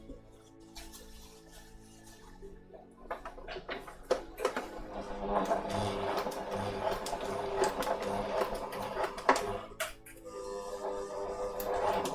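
A double-feed sewing machine stitches fabric for a corset project, a close rapid mechanical whirring and ticking that starts in short bursts and then runs steadily, with no talk over it.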